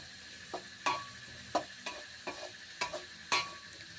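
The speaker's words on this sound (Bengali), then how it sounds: "এবার এটাকে আমি হালকা তেলে নেড়ে চেড়ে নিচ্ছি।" Spatula scraping and stirring onions in a little oil in a pan, a series of short, sharp scrapes at an uneven pace over a soft sizzle, close up, with no talking.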